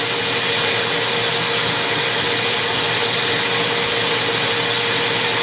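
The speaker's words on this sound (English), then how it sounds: "This is 50 grit to start. I'm really just cleaning the carbon out of the exhaust right now." A power tool fitted with 50-grit abrasive grinds carbon out of the exhaust port of a ported engine cylinder, producing a loud, close, continuous high whine with a steady hum beneath it.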